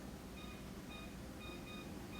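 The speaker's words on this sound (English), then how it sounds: "I set my timer" Kitchen oven timer beeping while buttermilk biscuits bake at 450 degrees, short high electronic beeps repeating in pairs over a steady background hum, faint and alone without talk.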